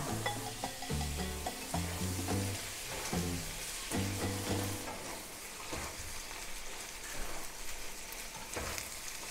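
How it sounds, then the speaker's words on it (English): Chorizo sizzles and fries in a pan for taco filling, a steady close crackle with occasional stirring scrapes and clatter throughout. "the chorizo starts to get a little bit crispy because it's getting fried"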